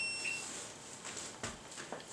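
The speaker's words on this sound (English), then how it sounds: "That was my timer." A kitchen timer set for sushi rice on the stove gives a short, high electronic beep at the very start, followed by faint room noise.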